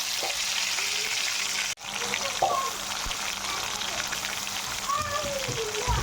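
Tomato pieces sizzle and fry in a pan for capsicum rice, a steady crackling hiss with a brief break and occasional stirring clinks, heard close with faint talk.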